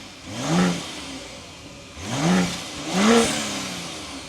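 A 2025 BMW X5 Silver Anniversary Edition engine comes to life, then revs three times in rising surges that settle back to idle between them, close and clear.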